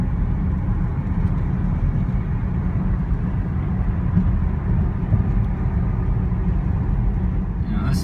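BMW cruising on an open road, a steady low road and engine rumble heard from inside the cabin, continuous and even throughout with no change in pace.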